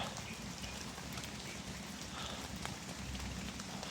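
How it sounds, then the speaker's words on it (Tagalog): Heavy rain falls steadily and unbroken, a dense close hiss of drops pattering on surfaces with no talk over it. "Walang tigil ang ulan nito guys."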